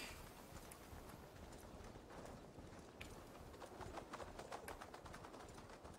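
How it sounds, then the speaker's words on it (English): Horse hooves clip-clop in the video game Assassin's Creed Valhalla, a faint, steady stream of soft hoofbeats under a noisy bed of ambience. "that's a clip clop of hoofs"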